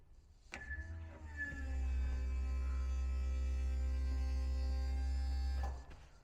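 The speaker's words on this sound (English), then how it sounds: "They have a hydraulic arm that now actuates and lifts the bed up for you." A hydraulic arm on a CF Moto U10 Pro utility vehicle raises the cargo bed with a steady electric-motor whine and hum, starting with a click, holding an even drone for several seconds, then stopping with another click.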